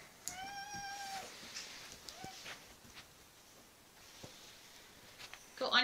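A house cat lets out a few brief meows, one longer cry near the start and softer ones later, amid faint household noises and light footsteps indoors, ending with a louder scuffle.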